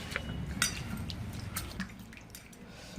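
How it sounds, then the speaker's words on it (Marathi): Potatoes being washed in water give off faint, close splashes, drips and light knocks against a vessel. "अगोदर आपल्याला बटाटे धुवून घ्यायचे, पाणी होतो आपण मस्त असे बटाटे धुवून घेऊयाला"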